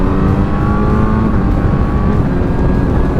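Kawasaki Z900 motorcycle engine pulling steadily under acceleration with a light throttle, a loud continuous drone with rising harmonics heard up close from the rider's position, no talking over it.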